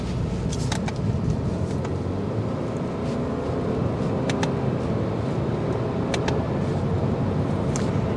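A 2024 Subaru Impreza Sport with four-wheel independent suspension driving on the road, giving a steady broadband rumble of road and wind noise from inside the cabin, slightly noisy, with faint clicks over it.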